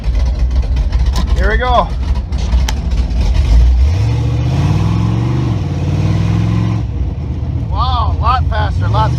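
A third-generation Camaro fitted with a fourth-generation rear end and 4.11 gears pulls away, its engine rising in pitch through a steady acceleration close by, with someone talking over it.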